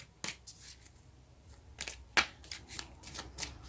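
Tarot cards being shuffled and drawn close by, with quiet riffling and sharp flicks and snaps of cards in irregular bursts against near silence.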